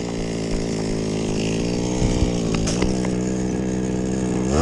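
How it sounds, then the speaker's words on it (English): A small two-stroke Goped scooter engine, about 25 cc, revs hard while climbing a hill, a buzzing, chainsaw-like whine with shifting pitch that surges and climbs near the end, loud and close with no talking. "Two-stroke power band, I forgot. I almost looped on a scooter."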